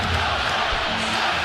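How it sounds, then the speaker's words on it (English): Arena crowd at Carver Hawkeye Arena during an Iowa State vs Iowa men's basketball game chanting "Let's Go State," a dense, steady roar of many voices filling the space without a break. "that cheer you hear is Let's Go State here at Carver Hawkeye Arena"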